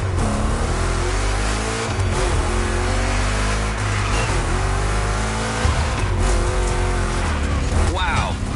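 Two Chevy big-block cars racing in The Crew Motorfest, engines roaring loud and close while revving hard, with tire squeal and skidding through rough turns and a voice talking over the action.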